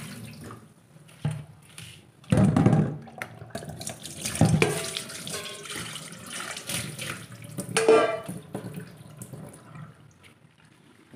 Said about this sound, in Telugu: ఇక వాటర్ అంతా గిన్నెలోకి దిగుతాయి